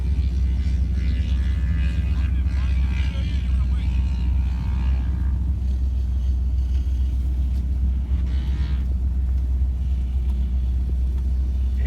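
A Ford Bronco engine idles steadily up close at an off-road gathering on sand, a continuous low rumble that stays even throughout with no voices heard.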